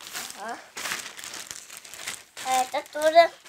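Branded plastic packaging bag crinkles as it is opened, with rustling bursts mixed in among a child's and an adult's voices talking over it.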